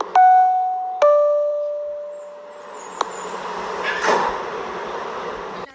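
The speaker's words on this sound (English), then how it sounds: "Stand clear of the closing doors." Two-tone electronic door chime on a New York subway G train, two loud sustained tones at the start with a sharp door thud near the end, followed by rumbling train and platform noise.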